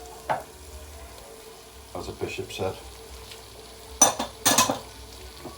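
Cauliflower tipped into a hot pan for aloo gobi and stirred, giving soft sizzling with a few sharp clatters of utensil against metal, loudest near the end, while someone talks quietly.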